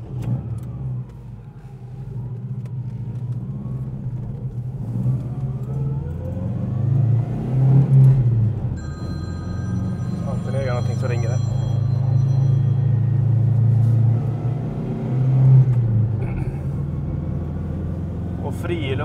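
A 1980 Saab 96 V4 Super drives along with its mid-pitched V4 engine humming steadily, rising in several revs and easing back, heard from inside the car while someone talks over it.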